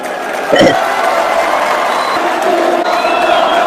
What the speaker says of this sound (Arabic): شوفوا الجمهور اللي يكبون والجمهور يتفاعل ويصيح